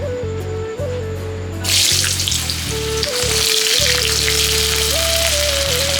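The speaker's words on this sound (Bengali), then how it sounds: "আলুটা ভেজে নিব।" Sliced potatoes fry in hot oil in a pan, a loud continuous sizzle that swells after a moment, accompanied by a low steady hum underneath and no speech.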